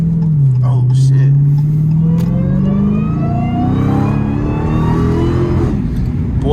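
A warm Dodge Challenger Hellcat engine revs up in a long rising sweep, loud and close, climbing steadily in pitch over several seconds with someone talking over it.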